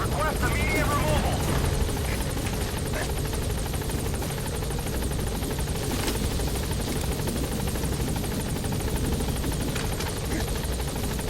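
A helicopter approaching a landing zone in Metal Gear Solid V whirs with continuous loud rotor thrum and engine drone, holding steady throughout, with radio voices talking over it.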